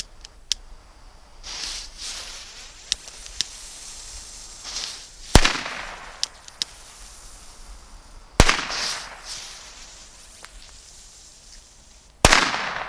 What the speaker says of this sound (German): Weco China Knaller Lidl.